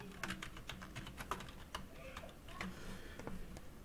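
Computer keyboard keys tapped in short irregular bursts while a GitLab project is being edited, the clicks soft and close, alone with no talking.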